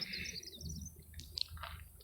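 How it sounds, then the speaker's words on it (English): Bats chirp outdoors at night: faint, high, scattered chirps and squeaks come in quick clusters over a soft low background rumble, with no talking. "oh my god, there's bats chirping."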